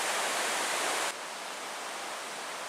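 Steady rushing water from a small waterfall beside a backpacking tent in the Porcupine Mountains, a dense broadband hiss that drops slightly in level about a second in and continues evenly, close and alone with no talk.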